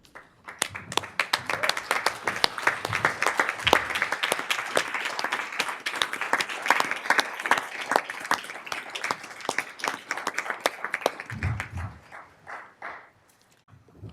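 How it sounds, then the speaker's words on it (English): A school board meeting audience claps for school leaders and staff, a steady round of moderately close, distinct handclaps that fades out near the end. "We'd love to give you a round of applause."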